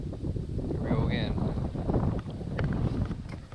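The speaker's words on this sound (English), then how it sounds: "the wind keeps pushing me back" Wind gusting over open water while canoeing, a steady rushing buffet against the microphone with faint water sounds and a couple of distant bird calls.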